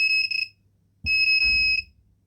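An Arduino buzzer alarm set off by a vibration module gives two short bursts of shrill, pulsing electronic beeps, each fluttering quickly, with a faint thump between them.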